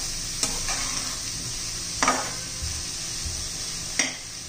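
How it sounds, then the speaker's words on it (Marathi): Potato and sprouted moth beans sauté in hot oil, a continuous bright sizzle broken by three distinct stirring scrapes of a spoon against the pan, close and steady. "आपल्या तेलामध्येच आपण चांगलं असं परतून घेणार आहोत."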